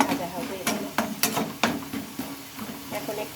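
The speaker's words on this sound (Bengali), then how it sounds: "এখন একটু ভাজা হবে এগুলো" Pakoras made from chowmein and lentil batter frying in hot oil, a low sizzle under repeated sharp clatters of a spoon or utensil against the pan, close by.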